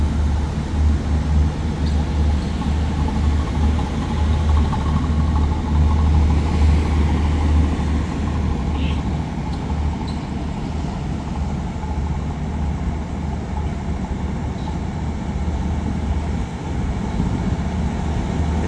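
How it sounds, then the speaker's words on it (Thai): Express train 83 and freight train 778 pass each other on double track at Ban Pong station in Thailand. A loud, continuous rumble of engines and rolling wagons lasts throughout, with no talking. "ขบวนรถ2ขบวนวิ่งสวนกันนะคือรถไฟทางคู่ครับ"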